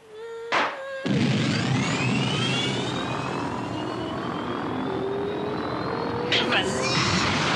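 Animated flying machine powering up and lifting off, a rising engine whine with climbing tonal sweeps over a steady roar, preceded by a brief voice and ending with a fresh burst of noise.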